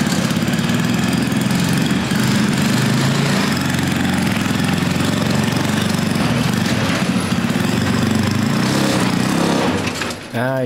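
A small engine in a homemade mini jeep drones and chugs loud and close for about ten seconds, then cuts off abruptly. A voice talks over the engine noise.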